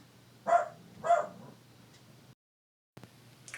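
Indoor dog barking twice in quick succession at moderate distance, followed by a faint yip, heard alone in a quiet room before a brief silence.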